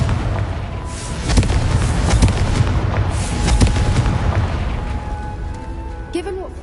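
A Confringo blast spell in a Harry Potter video game erupts in a string of heavy booming explosions and crackling bursts, loud and dense, rolling on for several seconds before easing off.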